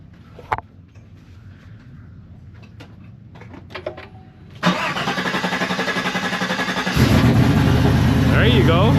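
Chevrolet Silverado truck engine cranking and starting after a battery pack is connected, with quiet handling noises, then the starter's rapid chugging that catches into a loud, steady idle rev.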